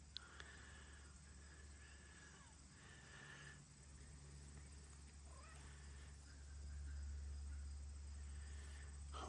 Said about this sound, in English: Oh no, I can hear Fozzie crying in the distance